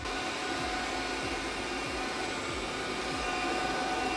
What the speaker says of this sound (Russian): этот пылесос будет очень хорошо убираться по углам